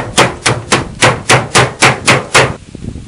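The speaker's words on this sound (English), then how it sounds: "Now we're trying to bend the flashing up into position. Do you hammer it" Eight loud, evenly spaced blows of a smooth-face hammer bending stainless steel gutter flashing ring out close by, each with a bright clanging ring, followed by a brief quieter rustle.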